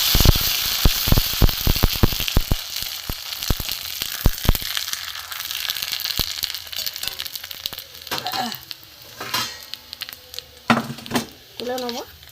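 Sago papad dropped one by one into hot oil in a wok gives rapid sharp crackles and pops, then a softer sizzle continues while a person talks near the end.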